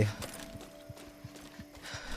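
A horse's hooves clip-clop in steady, evenly spaced beats in the video game Far Cry 6, moderately loud against a low background hum, with a person talking over them.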